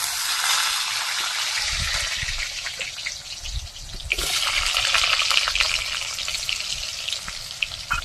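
Potatoes drop into hot oil in a pan already holding dried chilli, five-spice and whole cumin, setting off a steady hissing sizzle that grows louder and busier partway through, close up and with no talk.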